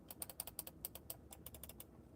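Rapid sharp clicks from a hot-swap ergonomic computer mouse fitted with replacement switches, a quick irregular run of a dozen or so crisp, close taps with a few brief pauses.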